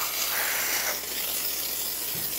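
Steam hisses steadily from a Gaggia Accademia espresso machine, a close, continuous broad hiss with a faint low pump hum beneath it.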